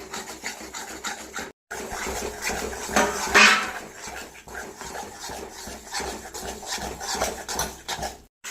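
Sukhdi batter of flour roasting in ghee, stirred in a pan with a scraping, rasping rub of spoon against metal, steady and close, with a brief louder scrape midway and no talk.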